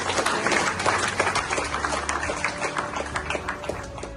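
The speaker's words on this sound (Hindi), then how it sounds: "इंजीनियर राजेंद्र प्रसाद जी को जोरदार तालियों से उनका सम्मान करें" Loud applause from the audience at a felicitation function honouring an engineer, a dense burst of many hands that swells early then gradually thins out, with faint voices in the mix.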